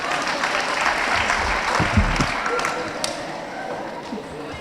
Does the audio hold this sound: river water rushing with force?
no